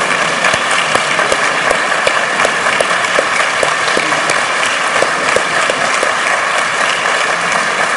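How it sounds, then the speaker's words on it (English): A large audience at a leadership award ceremony claps loudly and steadily for people involved with the education charity Pratham, with a thick, continuous roar of hands throughout. "I'd like to ask everyone involved with Pratham to please stand so we can applaud the work that you do."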